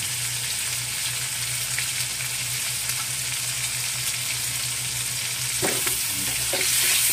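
Bagoong shrimp paste sautéing in a pan for pinakbet, a steady close sizzle with a constant low hum beneath and a few scraping stirs near the end.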